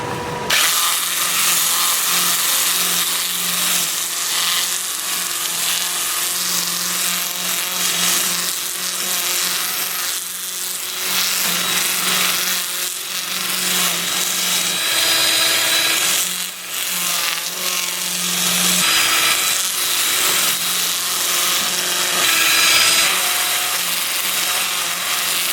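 A 2-inch sanding disc works a wooden bowl spinning in reverse on a lathe at 300 RPM, producing a steady whirring drone with rising and falling grinding scratches as pressure shifts, close and continuous.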